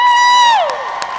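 A crowd at the Robert Irvine World Culinary Showcase 2015 cheers, led by a loud, sustained high whoop that slides downward in pitch, with scattered shouts behind it.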